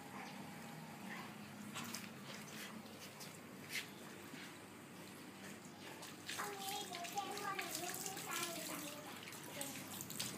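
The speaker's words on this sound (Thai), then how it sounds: "ล้างรถเองเล่นเลอะเองก็ล้างเองนะครับ" Water splashes and runs while a child washes a car outdoors, intermittent soft splashing and trickling under a child's and an adult's voices.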